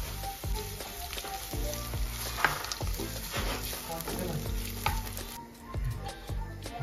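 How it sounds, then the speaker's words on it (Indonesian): Onion fries in oil in a home kitchen pan, giving a continuous crackling sizzle broken by frequent small pops and clatters of stirring, at a moderate level with no talk over it. "aku goreng yang bawang bombay ya"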